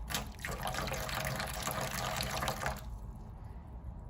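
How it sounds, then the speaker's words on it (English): Water poured onto sand in an erosion experiment, a steady splashing, rushing pour for under three seconds before it stops and leaves a quiet room. "And I'm going to add a little bit more water."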